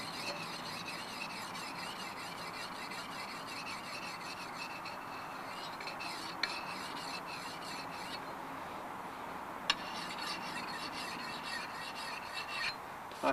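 A diamond whetstone rasps steadily along the double-beveled edge of a bearded axe on a Nordic building site, a continuous gritty scraping that runs on alone for many seconds with a couple of faint clicks.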